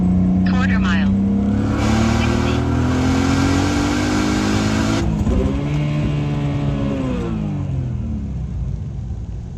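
A turbocharged 550hp BMW E46 accelerates hard, its engine note climbing steadily through the gears with a sharp shift near the middle before pulling again, loud and close under a steady rush.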